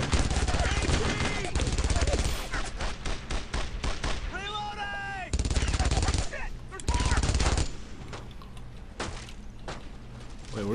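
Enemy machine gun hammers away in the WWII shooter Brothers in Arms: Road to Hill 30, bursts of rapid fire repeating loudly throughout amid battlefield noise and a voice.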